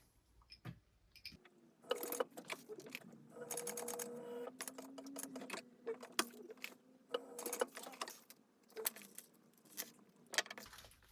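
Sewing machine top stitching a fabric wristlet at a 4.5 stitch length, running in faint, quiet spurts of whirring and clicking with short pauses between runs.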